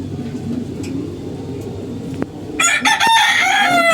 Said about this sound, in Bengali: এই যে মোরগটা মোরগটা তো পুরো ব্রয়লার মুরগি হয়ে গেছে